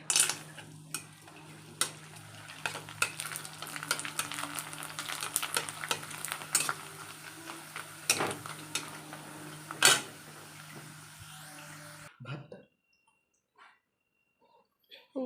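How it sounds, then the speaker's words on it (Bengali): Papad fries in hot oil, giving a dense crackle of rapid pops and clicks that runs for about twelve seconds before dropping to near silence, with a few faint thumps at the end. "আর এই পাঁপড় ভাজবো, তেল গরম করছে"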